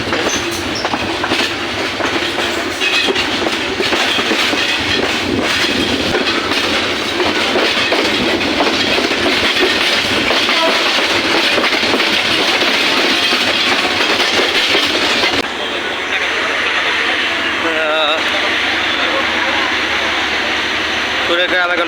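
Kurigram Express train from Joypurhat toward Dhaka rolling along the rails, a loud continuous rumble and rattle of carriages with rhythmic wheel clatter heard from inside, easing toward a station stop near the end.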